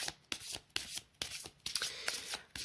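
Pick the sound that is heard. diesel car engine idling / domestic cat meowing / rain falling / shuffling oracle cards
shuffling oracle cards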